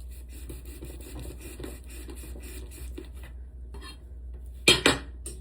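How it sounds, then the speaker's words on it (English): A knife cuts through ears of corn on the cob on a kitchen board, a steady scraping, rasping run with faint clinks, ending in two sharp, louder chops close by; no one talks. "take my little corns here and just get all of these cut in half here"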